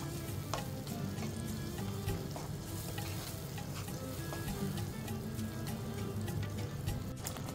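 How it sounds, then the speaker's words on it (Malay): Chili paste fries steadily in hot oil with a dense, continuous sizzle and occasional small pops, close and loud, cooked down until the oil separates for a beef dendeng dish. "Masak cili ni sehingga betul-betul pecah minyak ya"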